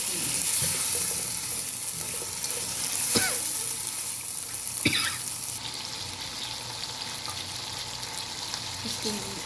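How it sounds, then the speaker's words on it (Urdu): Boiled camel meat frying with spices in a pot for camel meat pulao, a steady close sizzle broken by a few sharp stirring scrapes, with no talk over it. "اب ہم اس میں گوشت ایڈ کر دیں گے جو کہ بوائل کیے، اور اس کو اچھے طریقے سے بھونیں گے۔"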